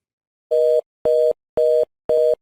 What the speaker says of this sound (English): I can press star star and retrieve the dial tone again.